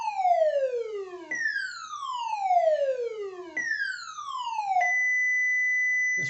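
AD9833 signal generator putting out a harsh square wave tone that sweeps down in pitch three times in repeated falling glides, then settles into a steady held buzzing tone, fairly quiet and alone.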